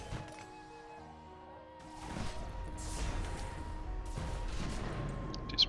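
Turret fire in the space strategy game AI War 2: dense overlapping bursts of blasts and impacts over a steady electronic drone, growing louder and busier after the first couple of seconds, with no talking.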